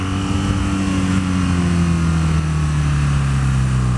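A 2015 BMW R nine T motorcycle engine runs steadily near the mic, its deep exhaust tone easing slightly lower across the few seconds, with constant loud wind-like rush and no talk.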